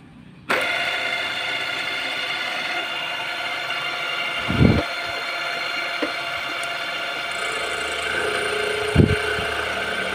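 A Yamaha RX-King motorcycle with a modified reed-valve membrane runs close by, its engine a steady, loud drone held on the throttle, with two brief louder bursts partway through.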